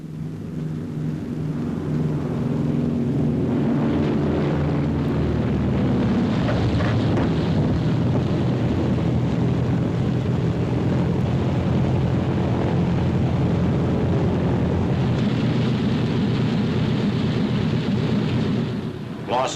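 A wartime aircraft trailing smoke as it comes in to land on an aircraft carrier, heard as a loud, continuous roar of engine and wind that holds steady for nearly the whole stretch.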